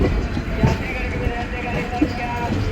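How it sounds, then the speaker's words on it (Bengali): A passenger train, the Yog Nagari Rishikesh summer special, pulls into Mughalsarai (Pandit Deen Dayal Upadhyaya Junction) with a steady close rumble and occasional clanks of the carriages, with faint station voices in the background. "3 ঘন্টা 39 মিনিট বিলম্বে এই ট্রেন ঢুকলো মোগলসরাইয়ে।"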